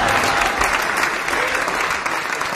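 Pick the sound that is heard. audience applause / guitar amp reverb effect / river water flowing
audience applause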